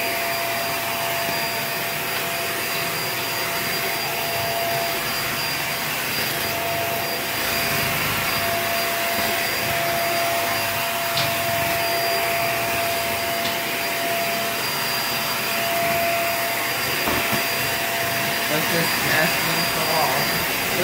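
A Hoover React Professional Pet vacuum cleaner runs with its vent closed on hard floor and rug, giving a steady loud whine with a constant high tone, unbroken from start to finish.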